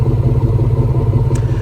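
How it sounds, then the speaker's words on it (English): A 1999 Chevrolet Suburban C2500's dual exhaust rumbles steadily at idle, a deep, throaty drone close by with no voices. "We got some dual exhausts that were also painted to match. Sounds good too"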